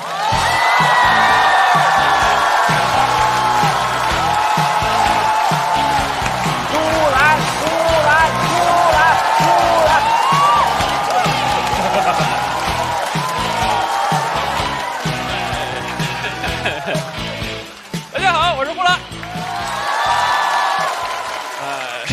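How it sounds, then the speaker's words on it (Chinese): A talk-show studio audience at the stand-up comedy contest Rock & Roast claps and cheers to welcome comedian Hulan, steady applause with whoops while a host's voice carries over it, tapering off near the end. "掌声欢迎呼兰！"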